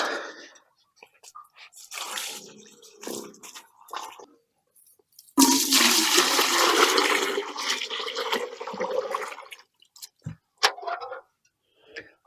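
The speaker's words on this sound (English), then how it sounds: "dump some water down behind it, just kind of rinse everything down with that water" A loud rush of water is dumped down a newly fitted well during pump installation, a sustained splashing pour of several seconds, framed by scattered clanks and handling noises.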